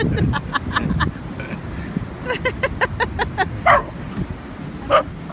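A dog yips and barks in short bursts at the beach, with a few sharper barks later, over rumbling background noise and some engine sound.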